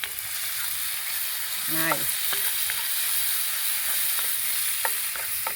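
Egg frying in a pan for a Trinidadian-style scrambled roti, a steady soft sizzle running throughout at moderate level, with brief clinks and a short spoken word over it.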